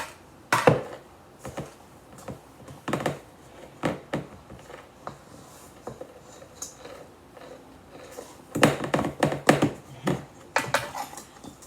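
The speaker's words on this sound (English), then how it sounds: "we're going to spread the batter into the prepared dish" Cinnamon sugar blondie batter being spread into a prepared baking dish, with close, irregular scrapes and taps of a utensil against the dish in bursts, no talking.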